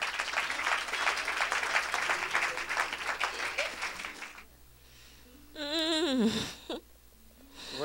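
A church congregation in Mali applauds and cheers for about four seconds in a dense burst of clapping, then the applause stops and a voice rises in a wavering, sung or shouted call.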